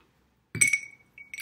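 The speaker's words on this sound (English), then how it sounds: "It says add an ice cube or two," An ice cube drops into a glass jar during a simple hands-on science activity, giving a single sharp clink with a brief ringing tail, then a fainter second tap a moment later, close and otherwise quiet.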